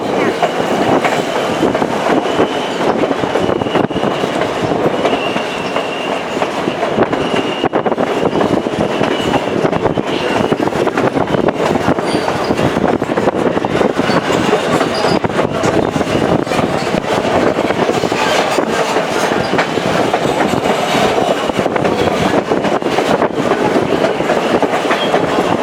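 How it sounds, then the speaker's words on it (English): Rumbling ride aboard a train in Skagway, Alaska, with steady wheel clatter and car rattle continuing loud and close throughout, and voices occasionally audible beneath it. "It's a pretty cool train ride."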